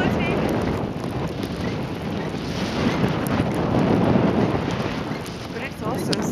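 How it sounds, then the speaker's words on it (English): Strong wind buffets the microphone at an outdoor viewpoint, a loud continuous rushing roar with gusty surges throughout. "There's a lot of wind."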